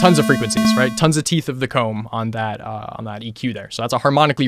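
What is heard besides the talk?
No everyday noises stand out.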